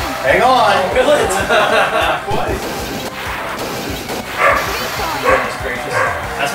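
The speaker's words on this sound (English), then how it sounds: "That's my dog." A dog barks in short yips and woofs amid loud, overlapping talk and laughter from players during a Windjammers versus match, the barking mixed under the busy voices.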